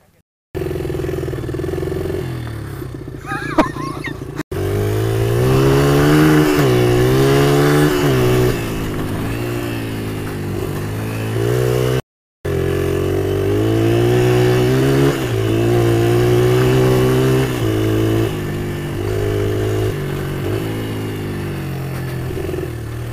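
A big enduro motorcycle with a quiet stock exhaust revs repeatedly nearby, the engine climbing and falling in loud, sustained pulls with a brief cutout in between.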